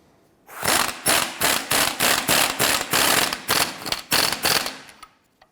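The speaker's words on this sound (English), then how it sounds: "Let's go ahead and tighten up our bolt here for the strut." A bolt on the rear upper strut mount of a 2006-2013 Chevrolet Impala is tightened in about a dozen rapid, loud, close rattling bursts in quick succession, which then stop abruptly.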